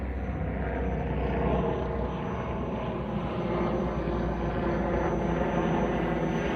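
A small radio-controlled airplane drones steadily through its landing approach, its close, constant motor whine holding at an even loudness with no voices.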